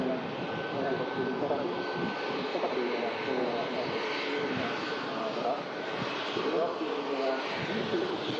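EasyJet Airbus A321neo arriving at Manchester Airport, a steady broadband jet engine roar heard from a distance, moderately faint and continuous throughout.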